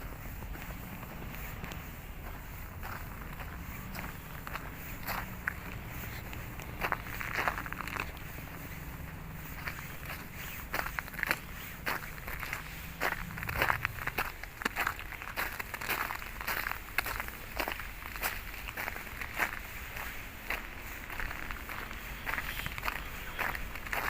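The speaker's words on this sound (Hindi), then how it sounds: "आपको चलने की आवाज़ आ रही होगी बर्फ़ पे।" Footsteps crunch over fresh snow during a snowfall in Paris, a steady run of soft, quiet steps against faint outdoor background noise.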